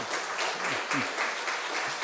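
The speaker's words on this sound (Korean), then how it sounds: "격려의 박수 한번 해주시기 바랍니다" Steady applause from a church congregation during a Sunday service, a continuous wash of clapping that holds evenly throughout without pause.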